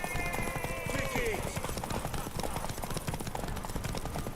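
Horse hooves clip-clop in a steady running rhythm during a race in the video game The Witcher 3: Wild Hunt, heard under constant game music and shouted voices cheering the rider on.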